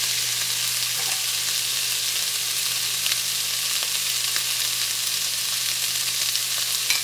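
Steady soft sizzle of two eggs frying in a pan for an omelet, continuous and close, with faint scrapes and no talk.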